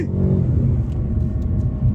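A 2023 Mercedes CLA entry-level luxury sedan pulling away hard from a takeoff, a loud, close engine rumble and rising whir holding steady for two seconds.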